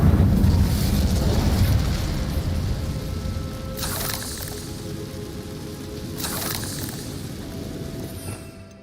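A fire spell is cast in the video game Hogwarts Legacy: a loud whooshing, crackling blaze that roars up at the start and dies slowly, with two bright bursts hitting partway through.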